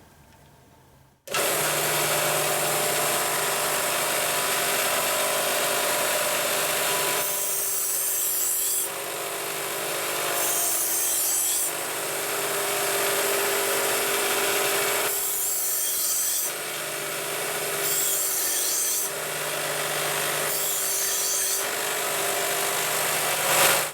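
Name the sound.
belt grinder reshaping and putting new edge on knife blade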